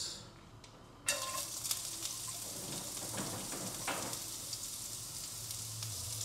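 Carrots sauté in oil for bibimbap, giving a steady, fairly quiet sizzle that starts abruptly and carries on with faint crackles and stirring scrapes.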